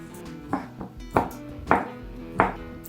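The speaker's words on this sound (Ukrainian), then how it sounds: "Їх потрібно нарізати маленьким кубиком." Four sharp knife strikes cutting crab sticks into small cubes on a cutting board, spaced roughly every half second, close and moderately loud over faint background hum.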